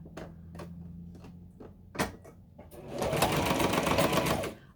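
A sewing machine stitches nylon webbing straps for a tote bag on a zigzag setting, starting with slow, separate clunking stitches and then breaking into a loud, fast, continuous whirring run.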